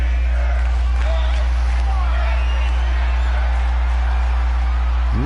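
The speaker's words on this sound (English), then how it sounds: "I'm not sure what the crowd's cheering there." Wrestling crowd at a live show, a broad wash of cheering and chanting voices that stays loud and steady from start to finish, with occasional whoops rising out of the roar.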